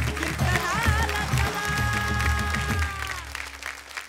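A stage audience at a kirtankar competition show breaks into loud, sustained clapping for a performer called up on stage, with a steady tonal sound riding over the crowd before it tapers off.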